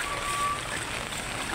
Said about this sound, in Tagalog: grabe na talaga ulan.